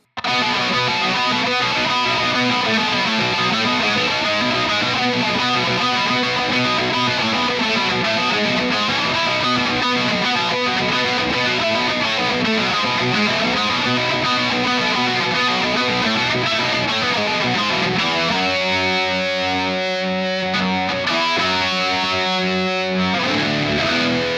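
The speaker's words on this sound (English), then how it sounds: "Let's now pack this one out a little bit with a flanger and a reverb." Bass guitar played through a Victory Kraken amp with flanger and reverb, a dense distorted riff that runs loud and continuous, then thins into sparser, choppier notes toward the end.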